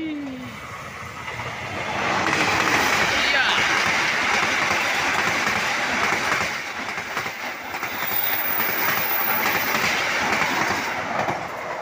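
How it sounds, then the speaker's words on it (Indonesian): The Malabar and Argo Wilis passenger trains cross at Cimekar station, a loud rumbling roll of railcars with rhythmic clickety-clack of wheels building and continuing close by, and someone talks in the background. "Malabar bersilang di stasiun Cimekar dengan kereta dari arah timur."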